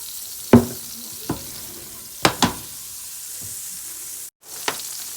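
Oil sizzles in a frying pan with butter as a soft, constant hiss, broken by a few sharp clinks and taps of a utensil, close and alone without talk.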